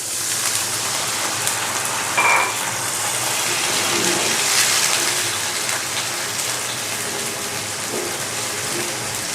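A splash of water goes into a hot pan of frying onions and bay leaves, and the sizzle bursts into a sharp hiss that settles into a loud, continuous steamy crackle.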